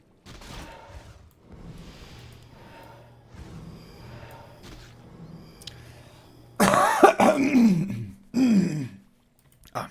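After quiet background noise, a person lets out a loud, harsh fit of coughing and throat clearing up close, ending in a couple of rough bursts.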